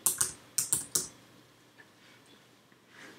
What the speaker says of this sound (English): with the capital locks on my keyboard, I'm going to type the word thank.